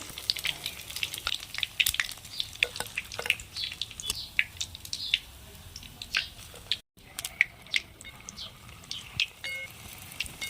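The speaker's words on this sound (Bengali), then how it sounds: "বলগুলো ভাজা হয়ে গেছে তুলে নেব" Spicy potato balls crackle and sizzle steadily in hot oil, with dense popping bubbles and occasional louder spits, heard close and without talk.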